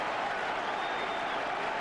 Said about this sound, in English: Some well-earned applause there for Speroni